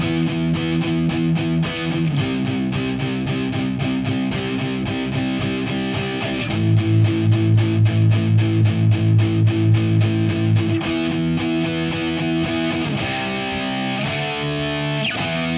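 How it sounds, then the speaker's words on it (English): Loud, sustained distorted electric guitar power chords, strummed in a steady driving rhythm with shifting chord changes, played alone without talk. "Power chords always sound great with distortion"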